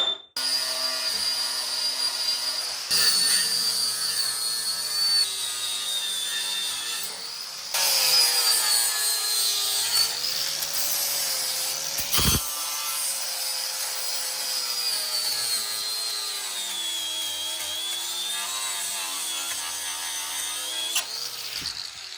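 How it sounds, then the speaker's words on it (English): Grinding down pinch welds on the steel floor pan of a 1961 VW Beetle makes a continuous, loud, whining grind whose pitch wavers and dips, with a brief break partway through and no voices. "We're gonna find all the little pinch welds in here and grind down this weld"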